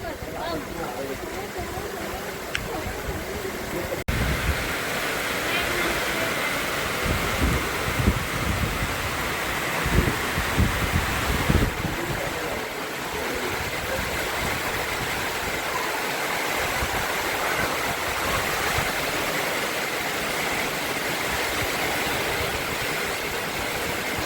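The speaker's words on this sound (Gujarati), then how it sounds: "બહુ જ ખતરનાક વરસાદ એમ." Heavy rain driven by strong wind in a Gujarati village makes a dense, continuous roar that stays loud and close throughout, with a faint voice at times under the downpour.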